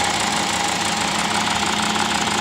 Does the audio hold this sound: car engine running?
yes